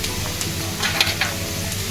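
Onions that are already fried crackle and sizzle in a hot pan, a close, steady frying hiss with a few sharper spatters and stirring scrapes partway through.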